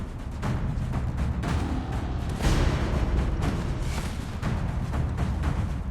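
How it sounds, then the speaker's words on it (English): Both gun barrels of the ship Laredo firing in the Battleship video game, a run of heavy booming blasts that roll into one another at steady loudness. "Laredo has both barrels firing."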